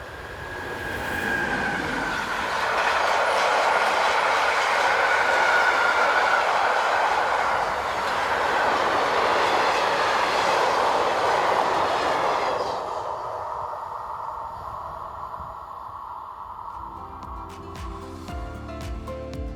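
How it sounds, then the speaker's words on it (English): A freight train hauled by electric locomotive 189006 rounds a curve, its wagons rumbling and wheels clattering loudly as it passes close, then fading away as the sound thins out. "189006, seen rounding the curve on a train from Sielce Yard, Hannover, to Chepino in the Czech Republic"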